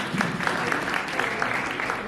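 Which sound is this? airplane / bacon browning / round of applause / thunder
round of applause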